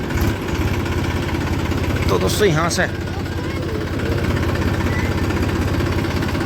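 A modified New Holland 4710 tractor with a 245-type engine runs nearby, giving a steady, throbbing mid-pitched drone beneath someone talking.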